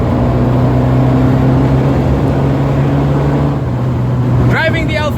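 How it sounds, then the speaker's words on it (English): A 1979 Alfa Romeo Alfetta with its 2.0 engine idles with a loud, steady rumbling drone close by, then a brief higher whine near the end. "Just want to make sure she starts before I go for the drive tomorrow."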